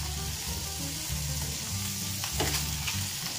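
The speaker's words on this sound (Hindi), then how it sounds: "अब ऐसे पनीर को इसमें रोस्ट कर लेंगे हल्का हल्का।" Paneer pieces roasting lightly in a pan of butter masala gravy, giving a steady, close sizzle and frying crackle with faint stirring scrapes running throughout.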